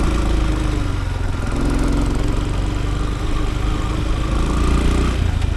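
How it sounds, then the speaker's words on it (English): A motorbike engine runs steadily on a mountain trail in Nepal, a loud close drone that holds at an even pitch throughout. "So they still get around on motorbikes"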